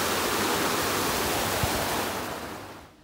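A river in Otley runs high and fast over gravel after heavy rain, giving a steady, loud broadband rush of water close by that eases slightly toward the end, with no voices.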